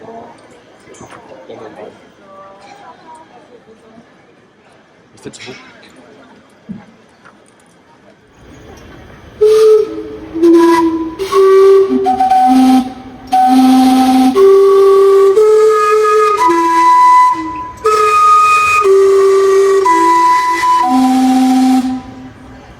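A loud steam whistle at a Canadian tourist attraction sounds a sequence of shifting pitched notes, almost like a melody, after faint crowd noise and clip-clopping hooves.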